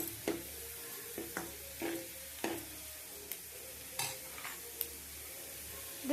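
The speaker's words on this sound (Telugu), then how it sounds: "క్యారెట్ బీన్స్ మొత్తం ఫ్రై అయ్యండి." Carrots and beans frying in a pan for egg rice, a quiet, low background sizzle broken by a series of sharp spatula taps and scrapes spaced a second or so apart.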